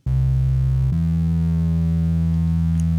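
Steady synth bass line programmed in FL Studio, a sustained harmonic-rich tone that shifts to a lower pitch just before one second and then holds loud and constant, alone with no talk.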